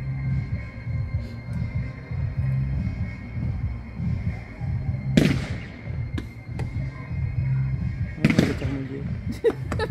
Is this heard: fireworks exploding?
yes